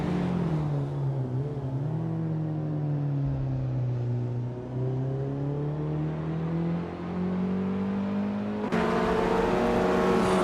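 A turbocharged 1984 Renault 5 Turbo races in a video game, its engine droning loud and steady with shifting pitch, then jumping to a harsher, higher rev near the end; no voices.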